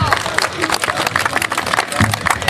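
An outdoor crowd at a municipal festival stage in Piszczac applauds, a dense wash of clapping that rises and falls over a couple of seconds.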